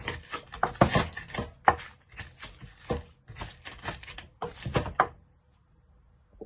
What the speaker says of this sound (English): Just keep grinding so we get a smooth paste.